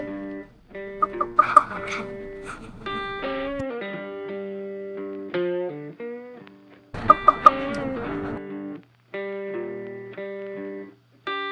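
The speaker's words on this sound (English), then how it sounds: "early in the morning we spotted a raven singing his song" A raven calling in the early morning in Yellowstone National Park, a series of resonant, harmonic croaks and gurgling notes in separated bursts, close and fairly loud against a quiet background.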